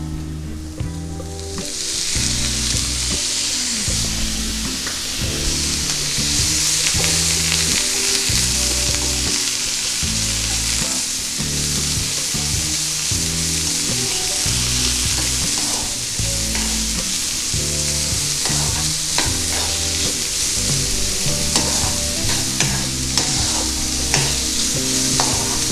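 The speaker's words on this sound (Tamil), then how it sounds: "இப்போ இந்த ஸ்டேஜில் நான் பீன்ஸ் சேர்த்துக்கிறேன்" Green beans fry in a pan with a loud, continuous sizzle while being stirred, with steady clinking and scraping running underneath throughout.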